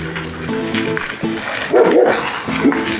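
A small dog barks and yips in short repeated bursts near a gravel path beside the Gamensee, loud and close, with brief whimpering between barks.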